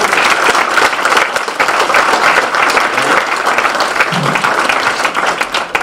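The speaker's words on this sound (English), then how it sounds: "round of applause for these folks." Sustained applause from a roomful of people at a chamber of commerce officers' installation, dense steady clapping filling the whole stretch at close range.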